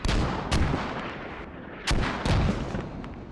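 Mortar shells exploding in the military shooter game Squad, a series of heavy booming blasts, some close and loud, with rumbling tails between impacts.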